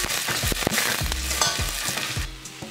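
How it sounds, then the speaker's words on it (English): Sliced onion with cardamom, cloves, cinnamon, mace and star anise sautés in ghee with a loud, close sizzle, punctuated by repeated scraping and clacking stirs of a spoon against the pan. "add 2 or 3 tablespoons of ghee, add whole spices, cardamom, cloves, cinnamon, mace, star anise. Saute 1 onion that's sliced."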